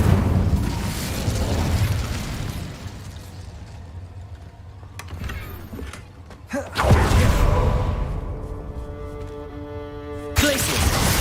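Confringo explosion spells in Hogwarts Legacy go off as several booming bursts and whooshes, one sharp blast in the middle and another near the end, over low rumbling game ambience.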